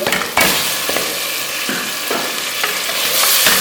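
Half a kilo of goat meat fries with ginger and garlic in a pot for aloo gosht, a steady loud sizzle broken by several scraping stirs of a spoon against the metal, with no talking.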